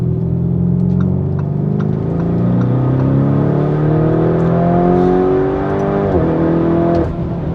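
A Lamborghini Urus SUV engine revs up in one long rising pull, its pitch climbing steadily before a brief dip as it shifts, loud and close with no talking.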